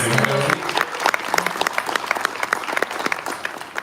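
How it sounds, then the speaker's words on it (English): An audience claps steadily, a dense patter of many hands that stays loud throughout, with a brief voice near the start. "Please give a round of applause for Harry."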